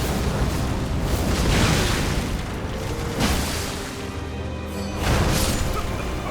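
Explosions in the video game Elden Ring: Shadow of the Erdtree, heard as loud, rumbling blasts that swell in waves across the whole stretch and fill the foreground.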